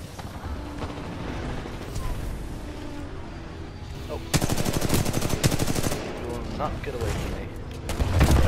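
Energy shotgun blasts in the sci-fi shooter Titanfall 2 crackle in a quick cluster of sharp bursts over ongoing combat noise, with a player talking at times.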